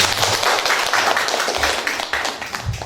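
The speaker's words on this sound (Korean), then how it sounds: "중간 박수 한번 받을까요?" An audience at a humanities lecture on umbrellas bursts into a steady patter of applause, many hands clapping together throughout, with no speech over it.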